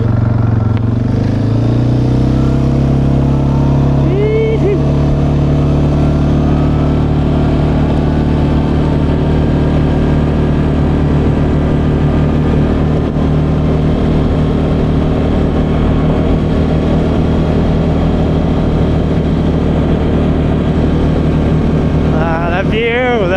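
A vehicle engine on an Arctic trail ride in Nunavut rumbles steadily and loud after being shifted into high range, holding a constant drone with slight pitch changes as it settles.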